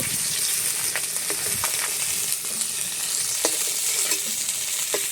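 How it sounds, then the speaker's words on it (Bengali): Japanese puti fish, full of roe, frying in hot oil in a pan, a steady dense sizzle with occasional sharp crackles and pops, close and continuous, no voices. "মাছগুলো খুব সুন্দর করে লাল করে ভেজে নিয়েছি, তুলে নেব।"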